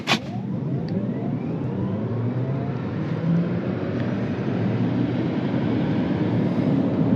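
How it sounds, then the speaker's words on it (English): A 2024 Subaru Solterra Touring electric SUV accelerates in normal mode, giving a steady, continuous low road and drivetrain rumble heard from inside the cabin, with a brief sharp click at the start and no talking. "Accelerate in normal mode."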